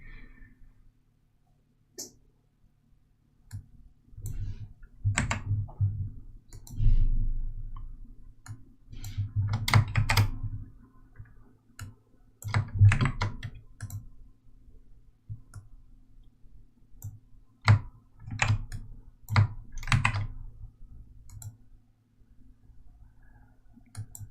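Uneven clusters of sharp clicks from a worn, badly working computer keyboard come in bursts with short pauses between them, close and fairly clear over a low hum.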